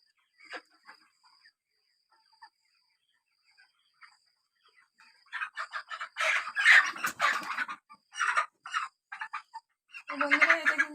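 Chickens on a poultry farm are caught by hand for weighing, giving sparse soft clucks at first, then bursts of loud, close squawking and flapping in the second half.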